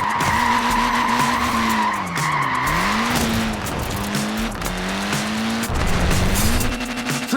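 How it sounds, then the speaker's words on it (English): Tyres of a short-wheelbase, front-wheel-drive Mini squeal and skid in Forza Horizon 4, long wavering screeches that rise and fall over a loud engine for several seconds. "Look at that, laying down some rubber there."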